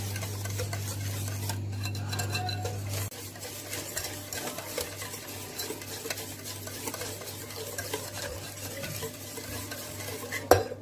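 A spoon stirs cake batter with cocoa and baking powder in a bowl, making a continuous soft swishing with light scraping and a low hum under the first few seconds.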